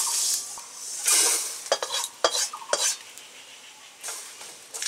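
A roasted spice mix being stirred in a kitchen pan, with several scraping strokes of a spoon, light rattles and a faint sizzle, close and fairly quiet with no talk.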